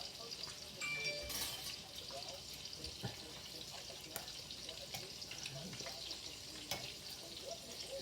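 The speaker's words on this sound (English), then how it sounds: "So now I'm going to transfer those meatballs into the gravy." Meatballs moved into simmering Italian gravy sauce, gentle sizzling and bubbling with scattered clinks and soft plops from a utensil, fairly quiet, with a voice talking at times.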